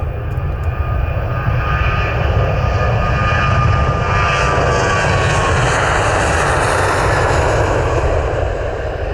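A small passenger plane takes off at Manchester Airport, its engine roar loud, close and steady throughout with a broad rushing drone.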